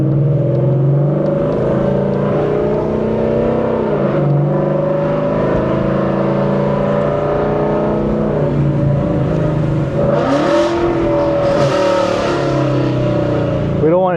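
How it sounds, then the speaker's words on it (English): A loud Ford Mustang engine drones steadily while driving, rising and falling with the throttle, heard up close from inside the car with people talking over it throughout. "the car's super loud"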